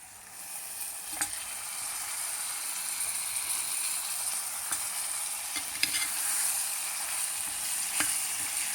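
Mutton frying with onions in a pan: a steady, close sizzle with occasional spoon scrapes and stirring clatter, continuous throughout without any voices.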